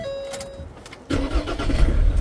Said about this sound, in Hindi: गाड़ी को पहले स्टार्ट करके देखते हैं भैया।